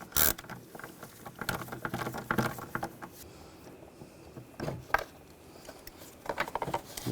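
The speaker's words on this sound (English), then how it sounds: "Now using a hex socket, we're going to take this bolt out here." A 5mm hex socket on a ratchet loosens a bolt on the airbox of a 2009-2017 Volkswagen Tiguan: short bursts of quick ratcheting clicks separated by pauses, quiet and close.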